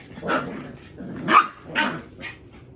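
Nine-week-old puppies bark and growl in short yapping bursts, four close yelps spaced about half a second apart, with no talking.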